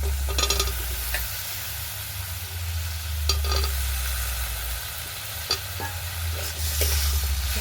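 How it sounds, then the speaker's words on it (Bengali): Potatoes and eggplant sauté in a spice masala for a crab curry, a loud steady sizzle with periodic spatula scrapes and clinks against the pan over a low rumbling hum. "মশলা কষানো হয়ে গেছে দেব ধুয়ে রাখা আলু বেগুন"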